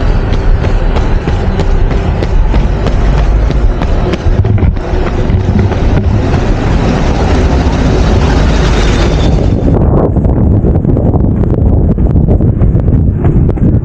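Strong, cold wind buffeting the microphone of a runner on the Caliraya 360° course, a loud, continuous roar that dominates, thinning out and easing near the end.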